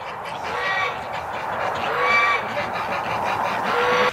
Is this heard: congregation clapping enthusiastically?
no